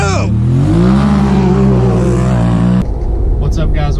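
A 2024 Polaris RZR Turbo R side-by-side revving on the Hillbilly trails in eastern Kentucky, loud and close, with its engine pitch rising and holding before cutting off sharply, then talking over a lower rumble.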